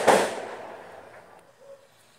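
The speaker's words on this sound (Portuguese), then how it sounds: "Saiu até fogos aí" A single loud firework bursts with a sharp crack, followed by a fading crackling tail and a faint distant echo, heard alone without talk.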